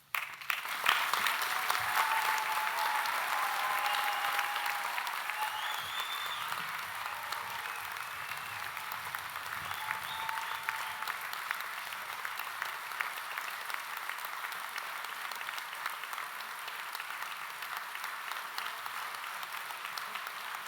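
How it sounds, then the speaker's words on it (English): A large crowd applauds at a university graduation ceremony after the presentation of students, a long sustained wash of clapping held at a moderate, fairly distant level throughout, alone without speech. "That's a lot of applause"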